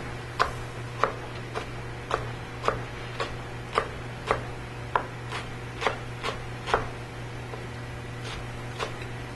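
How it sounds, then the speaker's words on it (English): A knife slices through leeks on a cutting board in about fifteen evenly spaced, crisp chops, close and fairly quiet, over a low steady background hum. "I'm actually going to cut again just to get the right size"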